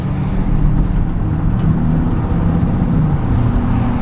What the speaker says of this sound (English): this is actually rush hour traffic, but away from the strip